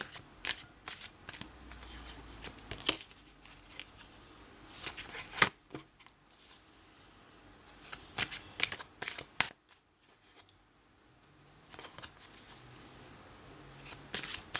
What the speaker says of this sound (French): Nous allons commencer par l'oracle G. Nous allons tirer 3 cartes.